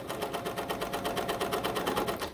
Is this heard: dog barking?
no